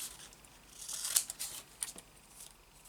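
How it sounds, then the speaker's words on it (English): Scissors snipping through cardstock strips during paper crafting, a few quick soft cuts, quiet and close with no talk. "Cut them in half."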